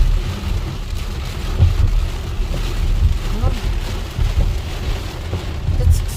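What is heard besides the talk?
rain during thunderstorm in Illinois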